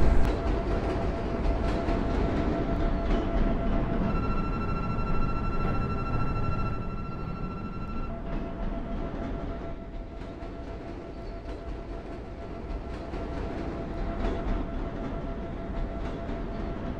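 An elevated CTA Green Line metro train in Roblox runs steadily between Clinton and Morgan, its broad rumble and rail noise continuous and fairly loud throughout, with a steady tonal whine rising in the middle and no talking.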